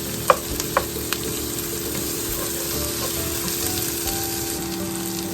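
Ingredients for jollof rice sizzle and fry steadily in a hot pan, a loud, continuous crackle with a few sharp clinks of stirring near the start.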